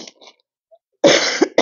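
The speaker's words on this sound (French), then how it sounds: "Je tousse encore un peu, je m'excuse." A single harsh cough bursts out after a brief quiet stretch, followed by a second sharp cough; faint breathy sounds come before.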